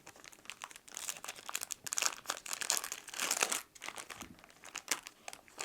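The foil wrapper of a retro Yu-Gi-Oh card pack crinkles and tears close up as it is opened, in a busy run of sharp crackles and rustles.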